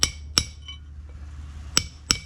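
Four sharp metallic strikes of a socket extension hammered against a wheel bearing race in the front hub of a 1979 Ford F-150 2WD, ringing clinks spaced irregularly, close and loud with no talk.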